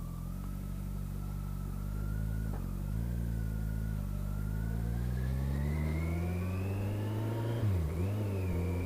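A Kawasaki GTR1400 (Concours 1400) motorcycle engine with a bespoke aftermarket exhaust hums steadily, its pitch dipping briefly, then climbing smoothly as it revs, with a deeper dip near the end.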